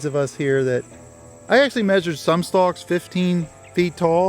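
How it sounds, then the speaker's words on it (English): Crickets in a Pennsylvania hemp field, with towering hemp stalks on both sides of a waterway, chirp as a faint continuous high trill beneath someone talking close by. "you can hear the crickets chirping"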